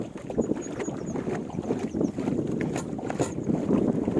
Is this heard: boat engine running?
yes